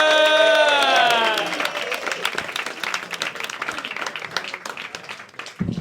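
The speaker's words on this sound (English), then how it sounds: "Start clapping, lift it over," A comedy club audience in Liverpool claps and cheers as a comedian is introduced, opening with loud whoops and shouts over clapping, then settling into steady dense applause that continues to the end.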